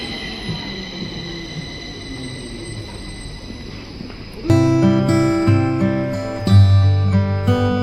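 A train rolls into a station, at first a low rumbling approach, then loud, sustained metallic wheel squeals ringing over the rumble for the last few seconds, with no talking.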